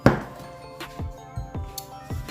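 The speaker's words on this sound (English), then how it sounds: "So I'm carefully chopping." A knife slices a whole lemon into rounds on a cutting board, giving several close, crisp chops at uneven intervals with no talking.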